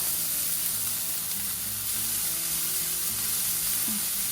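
Chopped onion, ginger and green chilli fry in hot oil, giving a steady, close sizzle with soft stirring sounds and no talking.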